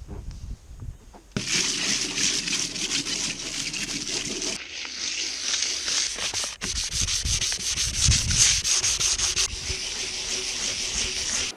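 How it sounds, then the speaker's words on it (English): 320-grit wet-and-dry paper rasps back and forth by hand over a narrowboat's paintwork in long, steady strokes, close and loud, pausing briefly between passes. "I'm going to start by using some 320 wet and dry. I'm going to do it by hand."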